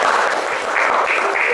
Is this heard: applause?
yes